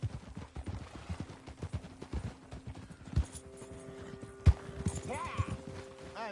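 A horse's hooves clop rhythmically nearby, then fade under a louder thump and a short rising whinny-like cry amid other ambient noise.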